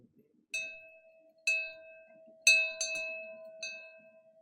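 A hand bell rung at a Board of Education meeting: five bright, ringing strikes with long metallic sustain, fairly close and clear, the last few struck in quicker succession.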